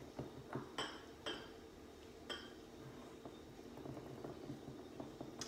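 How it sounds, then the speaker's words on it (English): A spoon clinks and scrapes against a bowl while stirring yogurt for a keto low-carb berry coffee cake, with a handful of light metallic taps at irregular intervals, faint and close. "So mix that yogurt up in there really good."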